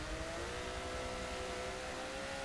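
Lamborghini GT race car engine droning at speed during a circuit race, a faint, steady buzzing tone whose pitch slowly climbs as it accelerates, heard at a distance without commentary.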